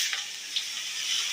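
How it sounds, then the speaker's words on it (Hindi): Onions sizzling in hot oil in a pan, the same oil used earlier for frying eggplant; a steady, fairly quiet hiss with a few small pops and no talking. "ऑयल हमारा पहले से गर्म है। अब इसके अंदर हम प्याज करेंगे।"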